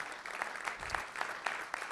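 Audience at a community meeting about an entertainment and sports arena applauds steadily for about two seconds, a dense wash of hand claps with a few louder individual claps standing out.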